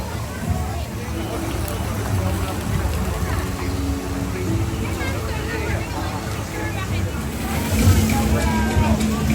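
Water sloshes and splashes in big waves on a theme park boat ride, a continuous rushing wash that swells near the end, with crowd chatter and voices mixed underneath.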